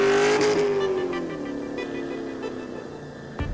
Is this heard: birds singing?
no